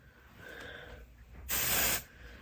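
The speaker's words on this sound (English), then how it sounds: "So I'm just going to spray that in my roots and rub it in." A single spray burst from an aerosol can, about half a second long, loud and close, following a quieter stretch of soft rustling.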